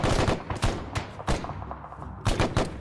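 Gunfire in the military shooter Arma 3 during an assault on a compound, with several loud broadband shots and short bursts spread across the span, some sharp and close, others duller, over a steady background rumble.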